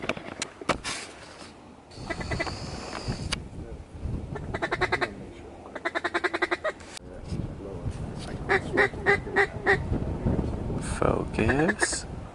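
Mallard ducks quacking in repeated bursts about 20 yards away, some loud and rapid, mixed with honking calls and a person talking quietly in between, during a duck hunt.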